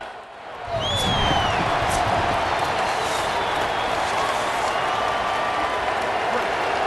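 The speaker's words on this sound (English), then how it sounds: "This crowd bringing an ear-splitting welcome to their visitors." A stadium crowd in the EA Sports College Football video game sends up a loud, sustained roar that fills the whole stretch, with a whistle-like sweep near the start.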